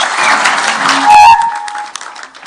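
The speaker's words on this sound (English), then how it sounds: "Another round of applause for His Excellency" Audience applause at a Pan-Africa Greentech Hub launch event with Kenya's president, clapping for about a second before a brief burst of feedback-like tones, then fading to scattered sounds.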